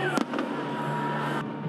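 A large fireworks display sounds as a dense, continuous crackling roar with a couple of sharp bangs near the start, loud and steady throughout with no speech.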